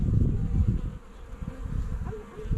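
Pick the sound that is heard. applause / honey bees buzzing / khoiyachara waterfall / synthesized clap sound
honey bees buzzing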